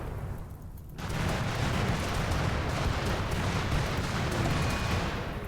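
Explosions in the video game RimWorld: after a quieter second, a sudden loud, rumbling blast gives way to a dense, continuous roar of detonations and crackling debris.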